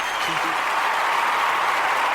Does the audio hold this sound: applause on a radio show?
yes